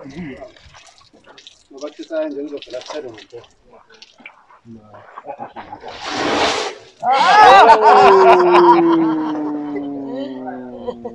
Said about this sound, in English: I want you guys to listen to the sound if it decides to drain.